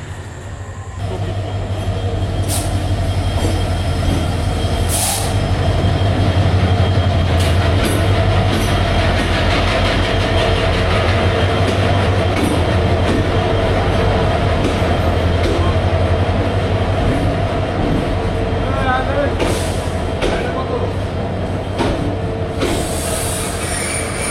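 The Turna Express passenger train at Feni station rumbles loud and close, with a continuous heavy roll of wheels on rails, clanking carriages and occasional sharp metallic squeals and bangs, no voices.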